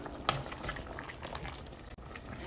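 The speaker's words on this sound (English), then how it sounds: "About 20 minutes in on a low simmer." Potato soup simmers in a pot with a soft, steady bubbling and a gentle burble, faint and close.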